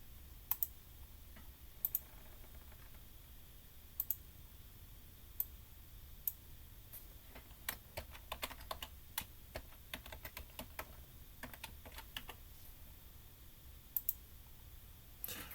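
Close clicking of a computer keyboard as a password is re-entered, irregular taps and short flurries of keystrokes spread across a quiet room with no talking.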